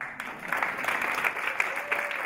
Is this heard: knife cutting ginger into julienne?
no